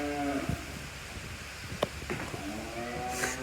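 A cow penned with a bull in a farm barn lets out low, drawn-out moos, close and clear, with faint background rustle between calls.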